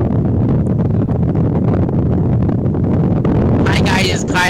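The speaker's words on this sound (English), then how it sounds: "It's really windy out here" Strong wind roars loudly and constantly against the microphone, a dense buffeting rush that barely lets up.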